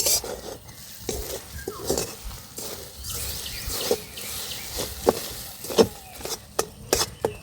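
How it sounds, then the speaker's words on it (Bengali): Sugar melting into caramel for a yogurt pudding crackles and sizzles softly in a pan, with intermittent metallic spatula taps and scrapes over a low, continuous fizz. "দেখুন ক্যারামেল তৈরি হতে শুরু করেছে।"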